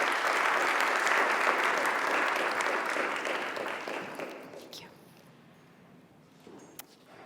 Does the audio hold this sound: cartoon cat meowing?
no